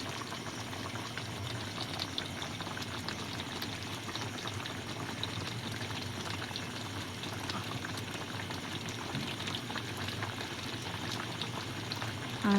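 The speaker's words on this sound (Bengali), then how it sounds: "এরকম করে আমটাকে সেদ্ধ করে নিতে হবে" Mango pieces simmer in a pot of water for a sweet-sour-spicy pickle, giving a steady close bubbling hiss that holds evenly throughout with no talk.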